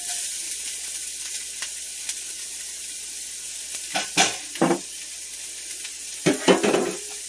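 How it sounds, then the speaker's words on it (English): Shallots hit hot oil with a constant soft hiss, and several short bursts of sharper sizzling and stirring scrapes come in quick clusters toward the end, close and clear with no talking. "I'm going to go ahead and add in my shallots"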